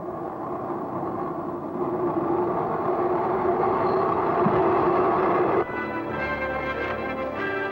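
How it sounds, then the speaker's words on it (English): A train arrives in a 1956 film scene, a steady, heavy rumble of rolling rail cars that holds for several seconds before the sound shifts abruptly into a clattering, tonal mechanical hum. "He said a train is coming!"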